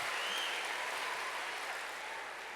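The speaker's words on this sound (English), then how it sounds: "Why are you clapping?" Dense, steady applause from a large crowd at an evening conference keynote, loud and continuous throughout, fading slightly toward the end with no talk over it.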